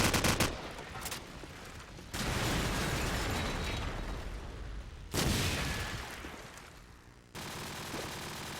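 Gunfire from a wall bang in Call of Duty 4: loud, dense bursts of shots that cut in abruptly one after another, each decaying into a noisy rumble.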